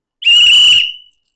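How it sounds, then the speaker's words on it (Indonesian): A teacher's whistle sounds once in a single shrill, steady blast of just under a second, loud and close, then cuts off into silence. "sekali lagi bunyi peluit berbunyi"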